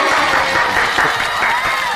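Audience applause, dense clapping heard throughout a short moment with a faint voice murmuring underneath.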